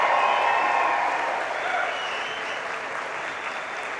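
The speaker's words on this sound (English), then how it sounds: "I want a proper cheer of thanks that your parents deserve. Come on, a big cheer." A graduation audience cheering and applauding loudly in a large hall, a dense, sustained wash of clapping and cheers that tapers slightly but stays strong throughout.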